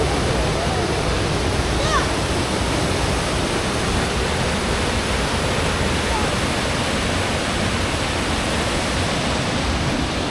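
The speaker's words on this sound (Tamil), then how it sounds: "ஃபால்ஸ் சூப்பராக இருக்குது." A waterfall near a restaurant in Mussoorie roars as a dense, unbroken rush of falling water, loud and steady throughout with no pauses.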